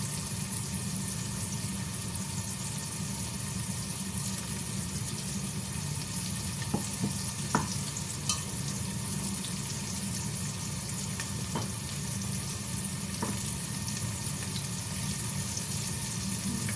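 Garlic frying in a pan for sopas, a steady broadband sizzle holding evenly throughout with a few faint clicks and light knocks from stirring, close by and with no voices.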